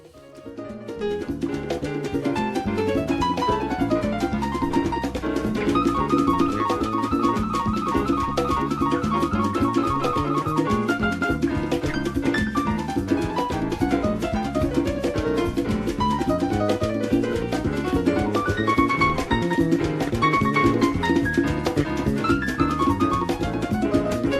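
A Latin percussion record plays as a dense, busy full-band mix. Driving percussion hits and melodic lines run steadily throughout at a constant level, with no speech over the music.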